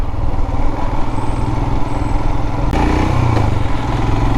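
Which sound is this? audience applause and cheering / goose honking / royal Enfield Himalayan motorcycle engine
royal Enfield Himalayan motorcycle engine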